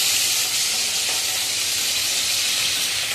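Bitter gourd fries in hot spluttering oil, giving a loud, dense, unbroken sizzle heard up close with no voices.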